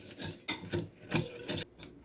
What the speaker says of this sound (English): I am just going to stir this until it gets to be the consistency of sand